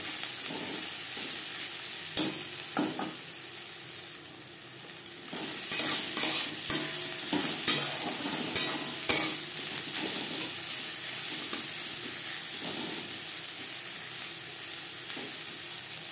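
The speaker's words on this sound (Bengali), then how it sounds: "পেঁয়াজ ভাজা হয়ে গেছে।" Sliced onions and green chillies fry in a pan with a continuous sizzle, while a spatula scrapes and clatters against the metal in irregular bursts that are busiest near the middle.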